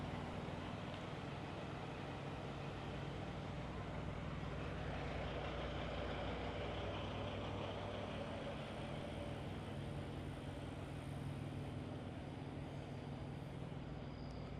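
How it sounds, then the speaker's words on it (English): A dump truck and other trucks at the GBATS 2025 truck show produce a continuous low engine rumble, steady and unbroken throughout, like nearby idling with no clear talk. "They have a dump truck here."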